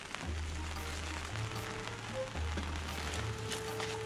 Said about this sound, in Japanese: 雨降ってます。